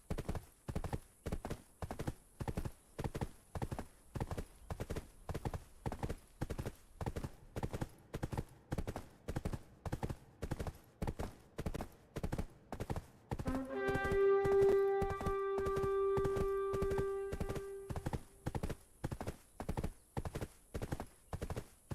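Horse hooves clip-clopping in Black Desert Online, a steady, even trot of evenly spaced hoofbeats throughout, with a short ringing tone partway through.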